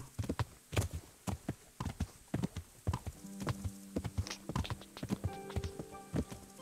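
A horse walks in Kingdom Come: Deliverance, its hooves knocking in an even clip-clop that stays close and clear throughout, joined later by a soft sustained musical drone in the background and no talking.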